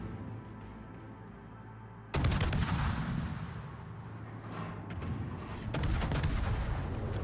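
Naval gunfire from a warship in a naval combat video game, with two heavy booming salvos whose rumble sustains through a dense, roaring background of battle noise.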